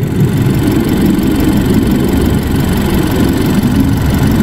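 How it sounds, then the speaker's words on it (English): A 2018 Honda Fit's 1.5-liter GDI engine idles steadily and loudly close to the microphone, a constant low rumble with a fault-related fuel trim condition, and no voices. "Now this is idling engine"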